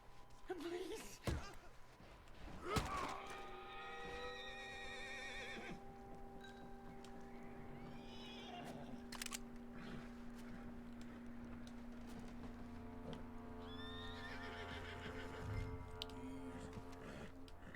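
A horse whinnies loudly in the Red Dead Redemption 2 game world, with several neighs rising and falling over scattered hoof thuds and ambient sounds, and brief voices in places.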